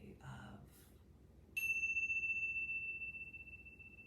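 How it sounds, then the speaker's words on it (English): A Tibetan singing bowl struck once, giving a bright ringing tone that sustains and slowly fades in a quiet room after a brief murmur of voice. "That's why I work with the singing bowls. They're these upside down bells, and the bells and the notes, they ring."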